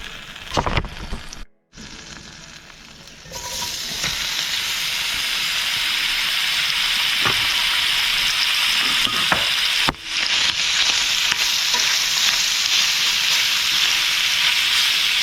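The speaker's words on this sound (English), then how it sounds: "we're now gonna take our sausage and we're gonna let those sear in the same pan" Sausage sears in a hot pan while making Cajun gumbo, a loud steady sizzle that swells after a brief drop and holds through, with occasional scrapes and clicks of the pan.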